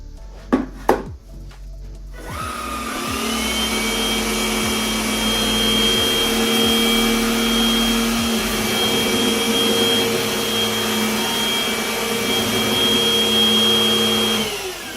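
A Bissell CleanView Swivel Rewind Pet upright bagless vacuum on its lowest mode picking up crumbs: a couple of knocks, then the motor starts and holds a loud, steady whine, close by, with faint rattling as crumbs are sucked up.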